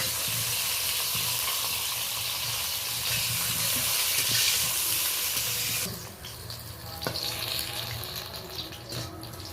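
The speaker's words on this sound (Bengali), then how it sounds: "লবণটা মাখিয়ে আমি ভেজে নিচ্ছি তবে বেশি নরম করেও ভাজবো না" Salted pointed gourd (potol) pieces fry in oil with a dense, loud hiss for about six seconds, which then drops to quieter sizzling with scattered stirring clinks close by.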